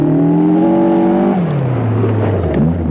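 A rally car on a hill climb stage of the 1983 NBN 300 Rally, its engine droning loud and near, then the pitch sliding down as it shifts gear before climbing again, with no talk.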